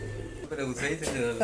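Pigeons coo softly nearby while a person speaks over them.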